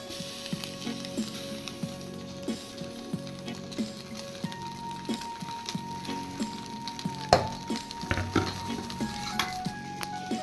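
Marinated taro stolons fry in a little mustard oil in a pan. A soft sizzle runs underneath, while a utensil repeatedly clinks and scrapes against the pan close by.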